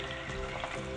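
Shrimp frying hard in a crowded skillet, the oil briefly flaring, gives a dense, steady sizzle with no break across one short second, close and fairly loud.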